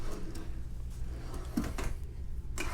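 Deep drawer in a used fifth-wheel RV kitchen sliding open, a soft rolling scrape with a couple of faint knocks and a light thump near the end, close by in a quiet room.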